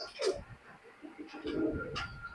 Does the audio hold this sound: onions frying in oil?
no